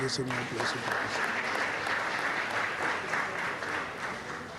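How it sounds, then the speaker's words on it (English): An audience at a city council meeting breaks into a sustained round of applause, dense and steady clapping from a roomful of people that tapers slightly near the end. "round of applause"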